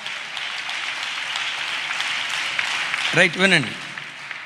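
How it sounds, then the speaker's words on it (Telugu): A church congregation claps in a steady, sustained wash of applause, with a voice briefly speaking over it near the end. "చేతులెత్తి చప్పట్లు కొడితే యేసయ్యకు స్తోత్రాలు చెప్దాం"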